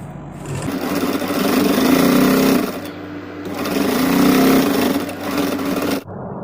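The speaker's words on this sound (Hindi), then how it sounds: "बिल्कुल स्ट्रेट करके एक सिलाई लगा लूँगी इस वाले मार्जिन के ऊपर सिलाई लगेगी हमारी" A sewing machine stitches blouse fabric in two sustained runs of close, loud whirring and rattling with a brief pause between, then stops abruptly near the end.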